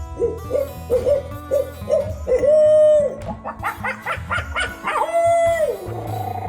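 A person imitates an owl, giving a series of short rhythmic hoots followed by longer drawn-out hoo-aww calls, loud and close.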